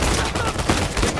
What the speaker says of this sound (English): That was a headshot.